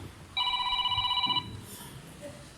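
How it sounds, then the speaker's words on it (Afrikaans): Mobile phone ringtone going off in a church service, one clear electronic ring burst of about a second, fairly loud and close, then fading into quiet room murmur. "My foon klink ook so, maar dis nie myne nie."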